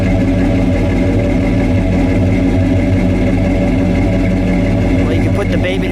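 A 1970 Ford Ranchero GT with a 429 engine and dual exhaust idles close by, a loud, steady deep rumble with a lumpy pulse that holds evenly from start to finish.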